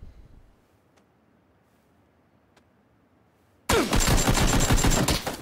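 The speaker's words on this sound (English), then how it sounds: "I'm just gonna start taking off shots at him." PUBG gunshots: after a long quiet stretch with a couple of faint distant cracks, a loud rapid burst of gunfire erupts and keeps going to the end.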